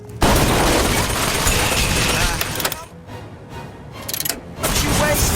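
Gunfire and clattering combat noise from Bioshock Infinite: Burial at Sea, a dense loud wash of shots and impacts with brief lulls, no talk.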